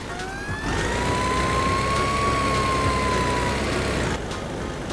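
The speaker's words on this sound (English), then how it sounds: "Fire truck." A fire truck siren wails steadily over a continuous vehicle rumble, its tone rising slightly then easing back, loud and close with no speech over it.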